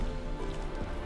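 Rain in The Witcher 3 falls in a steady, soft patter on surfaces, a continuous close wash with no voices.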